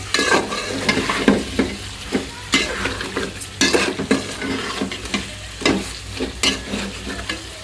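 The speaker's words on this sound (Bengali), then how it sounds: "এখন এই তো মাথা লেজা এগুলো দিয়ে কষিয়ে তারপরে এই যে উঠিয়ে রাখবো এগুলো" Rohu fish head and tail sautéed with spices in a pan, a sizzle broken by repeated scraping stirs of a spatula at an irregular rhythm, up close with no talking.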